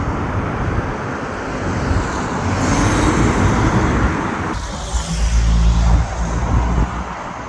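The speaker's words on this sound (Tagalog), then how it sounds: "Mahirap po tumawid. Yan po. Maraming sasakyan." Busy city road at night around 11 pm, a constant loud roar of passing cars and heavier vehicles with engine rumble swelling and fading close by, no talking over it.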